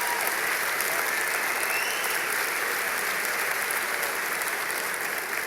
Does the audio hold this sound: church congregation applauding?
yes